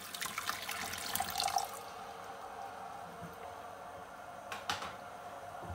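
Orange juice splashes as it is poured into a pan of hot sugar syrup, a short liquid rush followed by quieter trickling and faint kitchen clatter.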